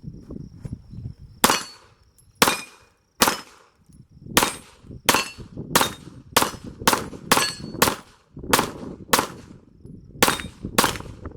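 Smith & Wesson M&P 2.0 Competitor pistol fired at steel plates on an outdoor range, with a Swamp Fox optic mounted: about a dozen sharp, loud shots in an uneven rhythm that quickens midway, each crack trailed by a faint metallic ring.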